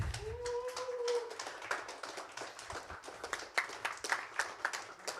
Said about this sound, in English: You can start clapping now.